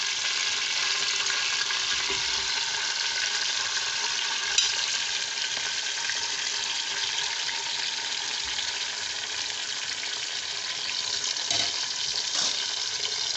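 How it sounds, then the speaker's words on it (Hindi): Beef hitting a hot pot of oil for biryani gives a loud, steady, close sizzle that holds evenly throughout with no voices. "अब मैं इसमें गोश्त डाल रही हूँ"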